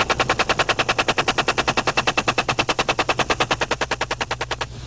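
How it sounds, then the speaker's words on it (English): Helicopter gunships fire machine guns in a continuous rapid burst of evenly spaced, loud, sharp reports, roughly eight to nine per second, lasting about five seconds with no voices. "permission to fire is granted, and the escorting gunships race in"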